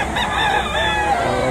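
Rooster crowing amid the bustle of a chicken auction market, loud and near with crowd noise and someone talking over it.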